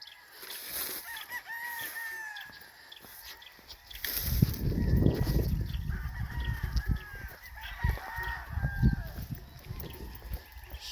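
Fighting roosters in Murcia, Negros Occidental crow repeatedly and cluck, several birds near and farther off, over a steady outdoor background with low rumbling noise in the second half.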